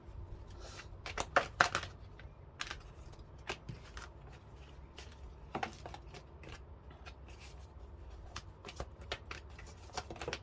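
Tarot cards are shuffled by hand in a quiet room, giving repeated crisp riffling bursts and soft slides at irregular intervals throughout.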